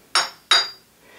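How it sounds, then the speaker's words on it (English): A workpiece being tapped down onto parallels in the vise of a Bridgeport milling machine: two sharp metallic knocks about a third of a second apart, each ringing briefly, close and loud, with no talk. "tighten up the screw, and then you should also tap the work down"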